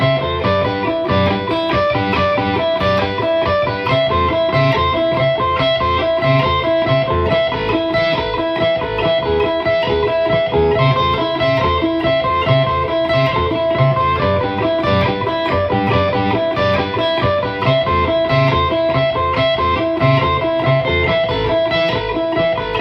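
Distorted electric guitars playing a harmonized solo lead line together, dense and loud, over a steady driving backing for a long continuous stretch.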